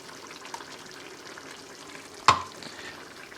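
Cream is stirred into paneer masala sizzling in a pan, a soft steady frying hiss with gentle stirring scrapes and one sharp spoon clink against the pan near the end.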